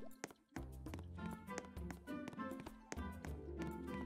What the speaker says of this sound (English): Not sure why I'm hearing my footsteps though.